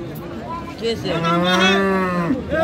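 A Friesian cow at a Tangail cattle market gives one long, swelling moo that rises after a short, quieter start and holds close and loud before trailing off.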